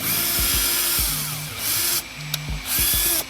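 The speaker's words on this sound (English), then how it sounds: "I'm drilling into the bumper right now" A power drill whines in repeated short bursts drilling into an Audi A4 bumper, spinning up and stopping several times, close and loud with no talking.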